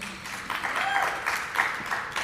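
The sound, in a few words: audience applause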